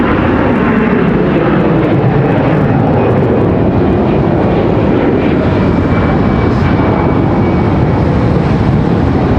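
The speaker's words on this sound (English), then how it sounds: "Got this A320 departure." An Airbus A320 jetliner departing Charlotte Douglas airport produces a loud, close, continuous engine roar with a faint high whine. The roar stays unbroken, with no voices.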